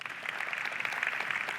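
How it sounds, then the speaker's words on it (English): Audience applause for Yaron, the speaker, after a talk at a startup day event: steady, dense clapping from a crowd that continues evenly throughout, without any voices. "Round of applause for Yaron."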